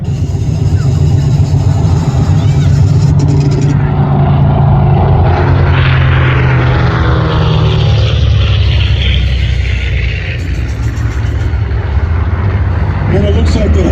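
In a flight game, a PBJ bomber and a Hellcat fighter drone loudly on propeller engines while strafing an airfield, a steady, rough roar that keeps going throughout as a voice talks over it.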